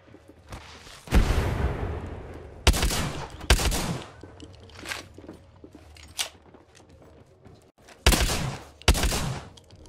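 Video game firefight with gunshots and grenade blasts, several loud, sharp bursts of fire and booms spaced irregularly over a low rumbling background.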